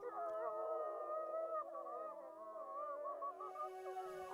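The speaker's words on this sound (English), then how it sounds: "The howl of the pack echoed over the valley" Several Yellowstone wolves howl together as a pack, overlapping long wavering tones rising and falling in a continuous chorus that echoes over a valley, with no voices present.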